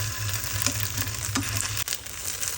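Isan-style sausages made from eringi mushrooms frying in a pan, a steady close sizzle of hot oil with occasional soft pops, interrupted briefly by a clunk partway through before the sizzling continues.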